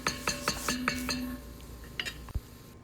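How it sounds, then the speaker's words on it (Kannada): Spoon scrapes and clinks against a pot while mixed vegetables with pink salt are stirred and fried, a quick series of rhythmic metallic taps, then a few scattered knocks and a soft sizzle. "ಇದನ್ನು 2 to 3 ಮಿನಿಟ್ಸ್ ನೀಟಾಗಿ ಹೀಗೆ ಫ್ರೈ ಮಾಡ್ಕೊಳ್ಳೋಣ"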